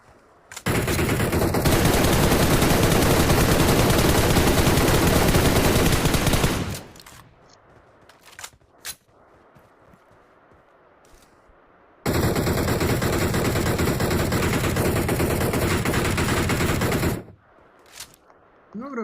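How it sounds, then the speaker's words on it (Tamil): A string of saravedi firecrackers bursting in a dense, loud rapid-fire crackle for several seconds, a pause with scattered pops, then a second long burst. "வெடிச்சிருச்சு ப்ரோ."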